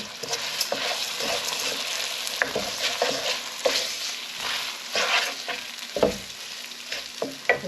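Lentils are added to a lamb and lentil soup pot and stirred, giving repeated scraping, clattering strokes over a steady sizzle, close and fairly loud with no talk.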